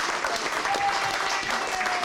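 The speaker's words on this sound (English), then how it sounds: "She really deserves a great round of applause." A crowd applauds steadily, dense clapping that fills the whole moment without letting up.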